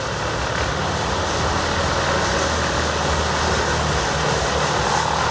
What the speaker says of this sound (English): WC2500XL whole tree chipper